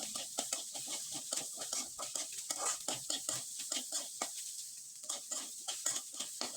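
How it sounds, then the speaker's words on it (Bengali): Egg patty filling, a dryish egg mixture seasoned with Maggi masala, stirred in a pan with quick, steady rhythmic scrapes and soft sizzling throughout, close and continuous. "এবার খুব ভালোভাবে নেড়ে চেড়ে নিতে হবে।"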